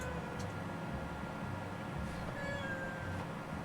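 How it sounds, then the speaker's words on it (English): A house cat meows indoors a few times, short faint cries over a quiet room background with a soft electrical hum. "Silly cat."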